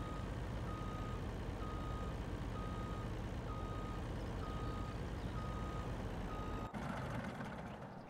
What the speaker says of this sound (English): It's a fairly long truck, so I'm going to park it beside the mower here.